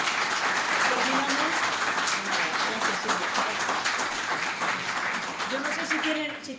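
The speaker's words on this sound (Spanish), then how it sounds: "Pues por favor, un aplauso para Silvia" Sustained applause from a conference audience, steady and dense for the whole stretch with a little talk mixed in underneath.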